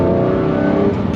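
Lamborghini Murciélago LP640 with a rear-mounted, naturally aspirated 6.5-litre 640 hp V12 drones loud and steady with a dense, throaty roar, heard close and continuous without any talking.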